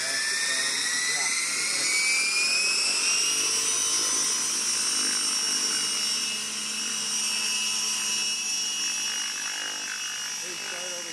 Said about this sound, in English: here you see us using the RC helicopter much like you would a crane